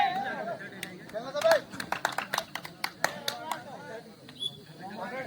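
Village spectators at a kabaddi semifinal clap in scattered, uneven bursts, sharp hand claps rising and falling over a background of crowd chatter and a commentator's voice.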